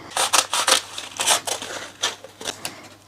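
Scissors snip through transfer tape for a DIY Christmas ornament craft, a close series of quick crisp cuts in short irregular bursts with brief pauses between them, no talking.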